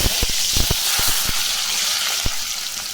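Cut big onions dropped into hot oil in a dry pan for a dried-fish thokku, giving a steady loud sizzle and hiss with a few sharp crackling pops, no voices.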